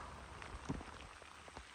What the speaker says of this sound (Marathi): पाऊस लागलेला आहे जबरदस्त असं बघा.